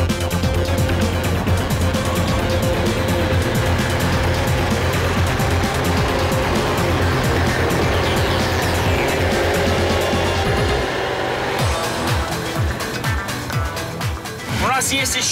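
A Volvo C303 army off-road vehicle labours under load, its engine droning loud and steady with strained revving as it pushes through rough terrain, someone speaking over it throughout.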